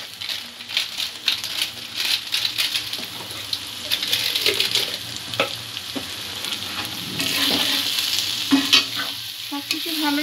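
Paneer cutlet mixture with chili powder and salt being stirred and mixed by hand in a bowl, a steady close scraping and squishing texture that continues without pause and with no talk.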